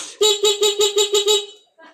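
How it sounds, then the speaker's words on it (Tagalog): Horn on a Kawasaki Fury 125 motorcycle, running on a weak battery, sounding six short rhythmic toots in quick succession, loud and close, followed by a faint brief tail. "Tapos, naglagay tayo ng busina."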